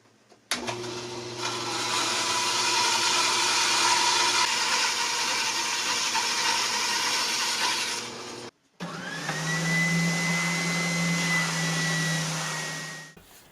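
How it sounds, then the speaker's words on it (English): A power sander works around the perimeter of a Telecaster guitar body, a loud steady whir that stops briefly and then starts again with a higher whine, before winding down at the end. "going ahead and getting the whole perimeter sanded in"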